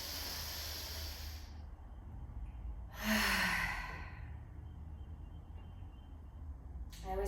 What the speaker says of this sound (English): we are going to take a deep breath together